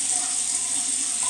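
Warm tap water runs steadily from a faucet into a sink to wet a shaving brush for a safety-razor shave, a close, continuous splashing hiss with no talk.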